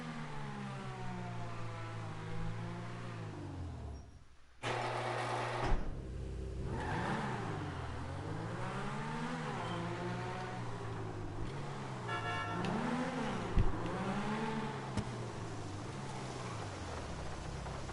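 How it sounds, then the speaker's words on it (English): A Progen GP1 supercar from a GTA game drives on a rainy road, its engine note holding a steady drone that rises and falls with throttle, broken by a brief cut near the start and a short sharp knock later. "Let's take this car on the road."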